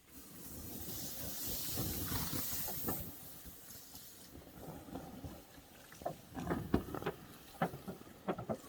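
A creekside campfire in Idaho being doused hisses loudly with steam, a broad sustained rush that fades into crackles and sputtering pops.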